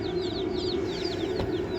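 Baby chicks peep in quick, thin, repeated chirps at close range while being set up in a brooder with water, over a steady low hum.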